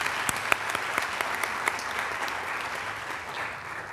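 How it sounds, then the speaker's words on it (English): Audience applause at an engineering hooding ceremony, a fairly close crowd clapping steadily with sharp individual claps poking through, holding level for about four seconds and tapering slightly at the end. "Let's have another round of applause for our civil and environmental engineering candidates"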